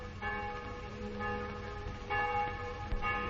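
Church bells ring in a sustained, resonant peal, with strikes overlapping into a continuous metallic ringing, moderately loud and heard alone.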